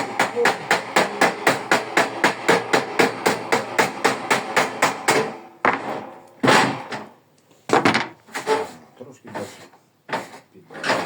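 Rapid, steady hammer blows for about five seconds, then a few slower, louder strikes with pauses between them, close by in a workshop.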